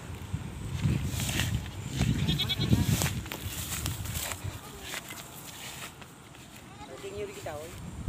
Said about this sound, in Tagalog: Ito pa yung kambing natin.